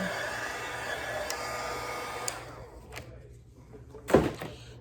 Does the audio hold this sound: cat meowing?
no